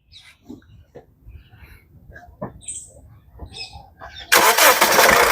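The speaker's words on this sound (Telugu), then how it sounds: "సింగిల్ సెల్ఫ్లో బండి స్టార్ట్ అవుతుంది." A 2016 Honda Mobilio diesel car engine fires on a single crank after a few quiet clicks and scattered sounds, then settles into a loud, steady rumble nearby.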